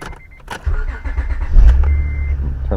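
A 2004-2008 Acura TL starts up, the starter churning briefly before the engine catches and settles into a steady low idle, close and fairly loud with no talk.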